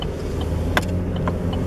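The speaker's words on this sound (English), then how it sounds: "there's a car coming, Mom" A car comes along the road with a steady mid-level engine and tyre rumble, plus a couple of short sharp clicks partway through; no voices.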